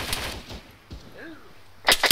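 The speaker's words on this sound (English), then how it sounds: "I just got some bullets ricocheting off of this" Bullets ricochet off an armored vehicle during an ARMA 3 firefight, producing a few whining, bending zings in the middle, followed by sharp, loud gunshot cracks at the end.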